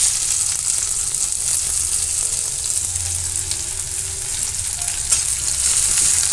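Chopped onion fries lightly in oil in a pan, giving a loud, continuous close-up sizzle with faint occasional stirring and no voices.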